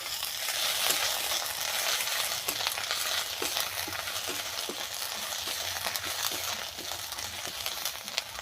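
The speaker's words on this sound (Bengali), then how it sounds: "ফোড়নের জন্য দিয়ে দেব পাঁচফোড়ন আর রাঁধুনি।" Bay leaves, panch phoron, radhuni and ginger paste fry in hot oil for a tempering, a continuous fizzing sizzle dotted with small pops and stirring clicks, moderately quiet and close, nobody talking.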